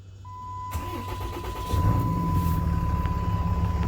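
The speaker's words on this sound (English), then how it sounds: "let's go ahead and crank her up" A 2009 Dodge Ram 2500 4x4 with a 6.7 Cummins diesel cranks briefly, catches and settles into a loud, rumbling idle close by, with a steady warning chime above it.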